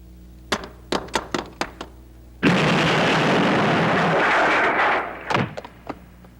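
A series of sharp knocks is followed by a loud, sustained roaring blast lasting a couple of seconds, then a few more sharp hits, in a Tagalog action film.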